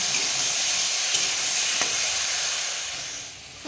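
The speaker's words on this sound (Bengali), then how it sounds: "এবার ভালো করে একটু কষে নেব।" Spices sauté in a pan for a thin singi fish curry with bitter gourd and potato, a loud continuous sizzle and hiss with a couple of faint stirring clicks that eases slightly toward the end.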